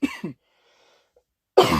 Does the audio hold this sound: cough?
yes